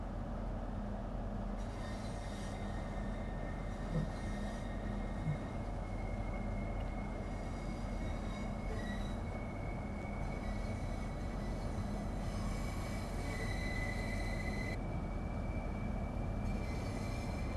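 A Class 395 high-speed train on the Southeastern route in Train Sim World 3 pulls ahead with a steady rolling rumble, while thin electric whines rise and shift above it.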